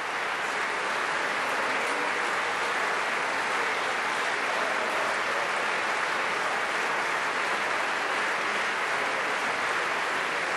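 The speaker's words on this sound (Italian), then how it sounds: "infatti vedete Stefania Prestigiacomo con un applauso" Sustained applause fills the Italian Chamber of Deputies during the 2015 presidential election vote, a dense, steady clapping from many hands across the hall with no pauses.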